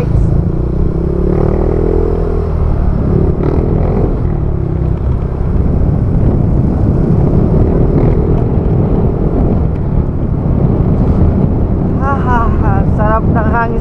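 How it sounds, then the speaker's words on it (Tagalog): Morning wind buffets the microphone on a boat in Laguna, a constant loud roar mixed with engine drone, with faint talk and a brief warbling sound toward the end. "Sarap ng hangin sa umaga."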